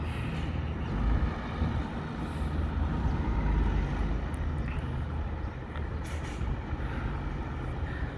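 A sugarcane grab loader truck works its grab, a loud steady diesel engine rumble with broad hissing noise and a brief hydraulic or air-release surge, heard close and alone throughout.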